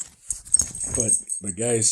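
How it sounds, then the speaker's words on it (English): Pet dog heard indoors in short, close whimpering yips and whines, two brief bursts within a couple of seconds, with someone speaking over them. "Yep, that's my dog."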